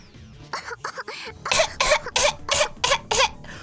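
A rapid series of harsh coughs, about eight in a row, close and loud, the later ones coming in an even rhythm.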